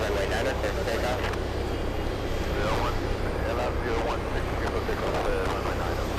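Heavy jet aircraft taking off from runway 9 at Boston Logan airport, a broad steady roar heard from a distance with faint voices under it.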